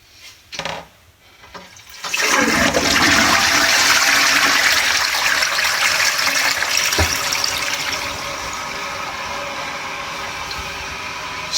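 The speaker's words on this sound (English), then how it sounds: "the cleaning liquid drips down and we are flushing the toilet" A toilet flushes with cleaning liquid dripping into the bowl: a few faint knocks and trickles, then a loud sudden rush of water that gushes strongly and slowly tapers into filling, close and with no talking.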